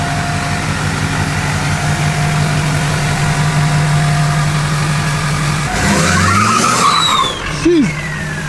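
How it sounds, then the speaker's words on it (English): A Duramax diesel-swapped Chevrolet K20 truck idles with a steady rumble, then breaks into a loud, close burnout: its tires screech and the engine roars for a couple of seconds before settling. "That was a no brakes and the throttle pedal's not attached to anything burnout"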